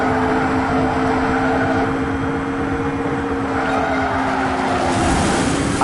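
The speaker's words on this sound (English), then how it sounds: "from the sounds of it, almost every car in this game is electric" Electric race cars in Xenon Racer give off a steady, high motor whine that shifts pitch slightly as they drive, rising and growing louder near the end, with no talking.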